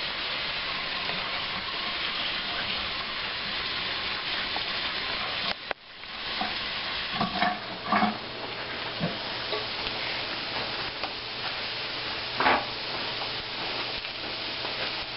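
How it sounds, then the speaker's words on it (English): A sirloin beef roast sears fat side down in a hot pan with a steady sizzle. A thump comes near the middle, followed by scattered pops and crackles. "Fat side down into the hot pan."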